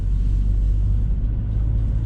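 Naturally aspirated 2.0-litre carbureted Nissan car engine pulling uphill, a steady close low rumble from inside the cabin with no speech.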